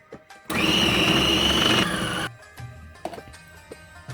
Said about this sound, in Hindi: धनिया डाल के मैं इसको फिर से ब्लेंड करूंगी।